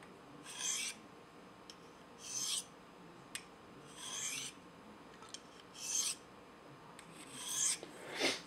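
A knife edge drawn across a Spyderco Double Stuff ceramic sharpener to remove a burr gives repeated dry rasping strokes, roughly one every one and a half seconds, close and fairly quiet, with faint brief ticks between passes.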